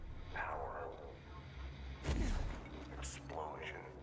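A video game explosion bursts out mid-clip as a loud deep boom with a brief rumbling tail, set among other game sounds and a voice speaking around it.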